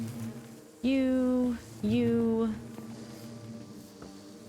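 Buzzing of bees in Minecraft's All The Mods 10 modpack. Two loud, close, drawn-out tonal drones come back to back, then a fainter hum, with a brief spoken word near the start.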